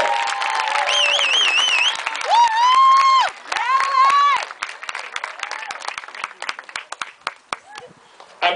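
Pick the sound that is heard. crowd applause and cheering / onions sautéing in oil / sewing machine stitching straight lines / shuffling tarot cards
crowd applause and cheering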